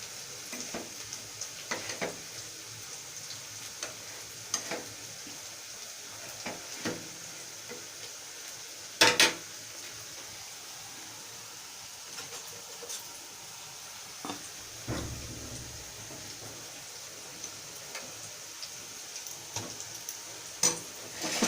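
Onions browning in a pan for chicken kosha, with a soft steady sizzle, scattered scrapes and clinks as a spoon stirs, and one sharper metallic knock partway through, all fairly quiet and without talking.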